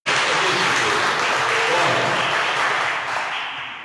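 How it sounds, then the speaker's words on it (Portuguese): Church congregation at a Friday night evangelical deliverance service breaks into dense, loud applause that holds steady for several seconds, then slowly begins to thin out. "Jesus merece até ser aplaudido, né, gente?"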